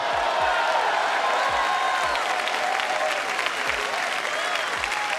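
A church congregation at a Myles Munroe service claps and cheers loudly and continuously, with a sustained roar of voices and hands and a few low thumps underneath.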